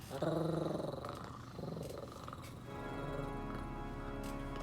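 A person imitates a cat, giving a throaty purring growl in a few short, rough bursts close to the microphone, with a low rumble behind it and faint voices around.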